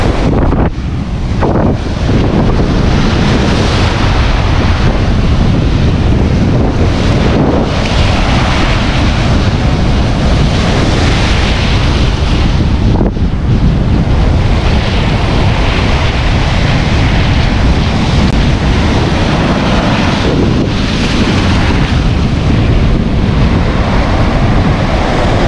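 Steady rush of surf and wind blowing across the microphone, continuous and loud throughout, with waves washing in close by.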